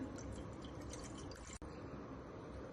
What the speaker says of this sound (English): We add some milk to a pan.